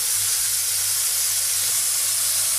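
A ginger, garlic, cumin and onion paste sautéing in a pan, giving a steady, loud, close hiss of sizzling with no pauses.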